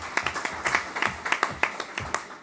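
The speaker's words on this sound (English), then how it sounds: "I reckon that's deserving of a little clap" Brief applause from an audience at the TUC Disabled Workers Conference 2024, a scattered patter of hands clapping for a few seconds at moderate volume.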